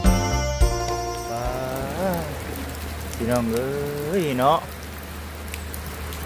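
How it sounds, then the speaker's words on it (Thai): Steady rain patters on a surface throughout, under someone speaking in a drawn-out, sing-song voice. "ฝนตกแห้งพี่น้องเอ้ย"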